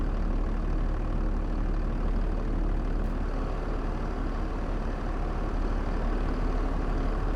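A tractor engine idles in Farming Simulator 22, a steady, continuous low rumble that holds at an even level throughout with no voices over it.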